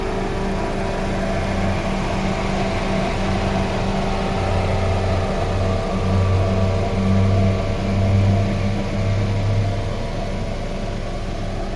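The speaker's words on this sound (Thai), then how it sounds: "เครื่องยนต์เงียบๆนะฮะ" A 1997 Toyota Corona Exsior with a 3S 2.0-litre engine idles close to the microphone, a steady, even low hum with no revving, running alone for the whole stretch.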